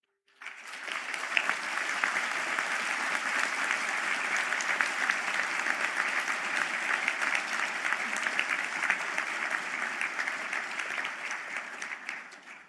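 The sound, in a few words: applause for construction management graduates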